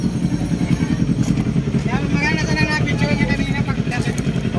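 Several 1000cc motorcycles idle and rumble nearby outside a paresan eatery, a steady throbbing engine drone with rising revs partway through, under close conversation.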